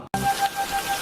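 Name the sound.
rain falling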